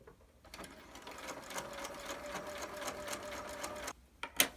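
A sewing machine stitches fabric at a 5/8 seam allowance in a steady, fast mechanical whir close by for about three and a half seconds, then stops, followed by a short click.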